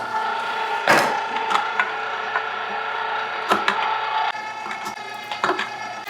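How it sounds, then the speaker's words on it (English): A meat grinder working through brisket, a steady mechanical whir with hard cracking and clunking knocks at irregular moments, fairly loud and close. "I'll run it through the grinder"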